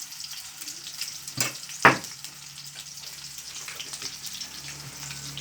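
Onions, ginger and garlic sautéing in a pan, a steady low sizzle with two sharp clinks of a utensil early on, close by and without talk.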